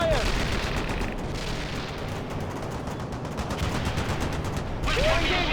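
Gunfire hammering units in the real-time strategy game World in Conflict, a sustained, loud crackle of rapid shots and machine-gun bursts with rumbling booms beneath and brief unit voices over it.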